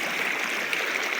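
A village river stream flows steadily, a continuous broadband rush of moving water, close and even throughout with no voices.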